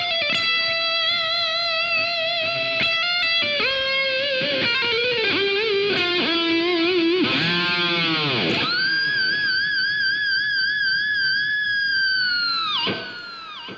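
An electric guitar plays sustained notes while the tremolo bar bends them, giving wavering vibrato and deep dives in pitch, followed by a long held note that drops away at the end.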